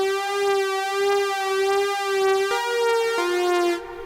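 Yamaha CS70M synthesizer playing a sustained brass tone with slight LFO modulation, a steady harmonic note that steps lower twice near the end, loud and alone.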